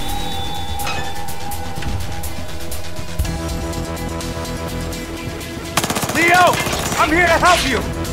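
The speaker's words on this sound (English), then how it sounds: "Multiple reports of gunfire." Bursts of rapid gunfire crackle amid sound effects in the video game Battlefield Hardline, with a busy flurry of sharp shots and whistling tones toward the end.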